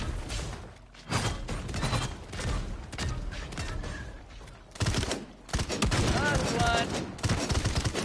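Rapid gunfire in the video game Realm Royale, dense crackling bursts and mechanical clatter running almost continuously, with players talking in places.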